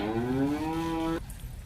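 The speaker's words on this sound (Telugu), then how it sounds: "ఆవులు అరిసే సౌండ్ కూడా పెట్టినారు" A single long, close cow moo with a rising tone, lasting about a second before cutting off into quiet background noise.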